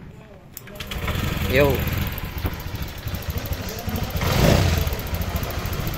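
A Honda Click scooter with an idle fault that makes the engine die is started, catching after a second and settling into a buzzy, uneven idle up close, with a brief spoken word over it.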